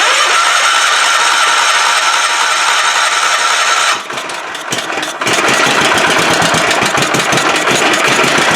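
A Kohler engine on a Toro Sand Pro 14 cranks loudly, briefly stumbles and drops off, then catches and settles into a rough, rattling run, close and dominant with no talking.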